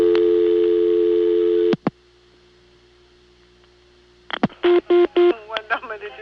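Touch-tone dialing on an early-1980s Florida telephone line served by a Siemens motor switch: a steady tone cuts off, then after a pause several short, loud, evenly spaced DTMF beeps follow, close and clear with no talk.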